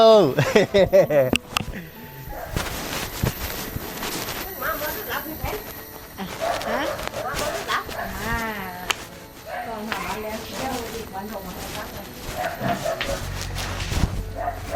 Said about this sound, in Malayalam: ഇവിടെ നല്ല 2 നായ്ക്കളുണ്ട്, വലിയ കാവൽപ്പട്ടികളാണ്.